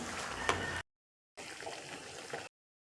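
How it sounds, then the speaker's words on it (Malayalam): Pea curry boiling in a pot gives a bubbling, gurgling simmer heard close up in two short bursts separated by brief silence. "ഒന്ന് തിളച്ചാൽ മതി നന്നായി തിളച്ചിട്ടുണ്ട്"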